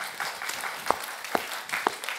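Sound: audience applause

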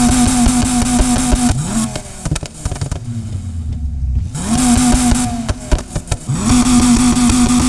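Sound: V10 car engine revving in video game

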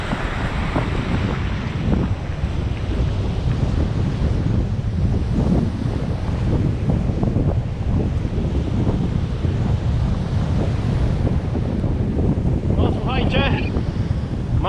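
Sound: strong wind and surf on a Baltic beach

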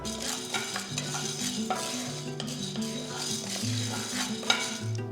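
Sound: dry roasting dal in a pan for curry leaf podi

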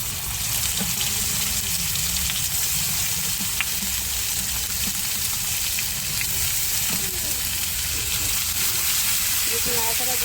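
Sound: fried ground spice paste added to the cooking pan

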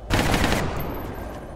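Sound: gunshots from video game XCOM Enemy Within Long War

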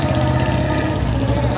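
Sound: motorbike engine idling

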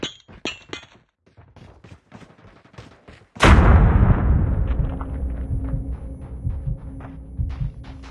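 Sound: grenade explosion and gunfire in Call of Duty video game

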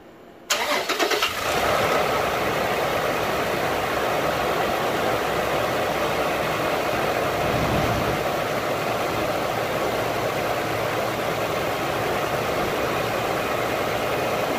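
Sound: Toyota Fortuner engine started and idling after drive belt replacement

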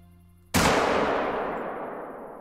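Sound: 7mm rifle gunshot, from video game theHunter Call of the Wild

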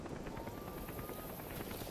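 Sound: helicopter in Metal Gear Solid V video game

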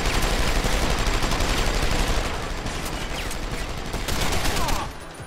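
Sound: gunfire from enemies in video game Deus Ex: Human Revolution

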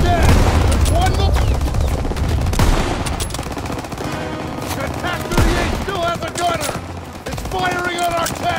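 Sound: gunfire in Call of Duty: World War II video game

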